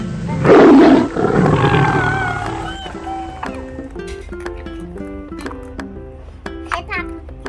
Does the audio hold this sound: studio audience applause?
no